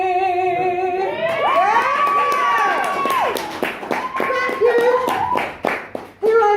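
Comedy club audience at a musical theatre stand-up set in South East London, clapping and cheering breaking out in sharp bursts while a performer's sung, sliding voice carries over it, then scattered claps trailing off.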